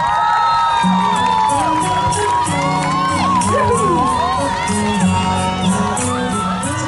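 A lively outdoor crowd at the hot air balloon carnival on Taitung's Luye Highland cheers a singer taking the stage, with loud sustained whoops, high shouts and excited voices overlapping close by throughout.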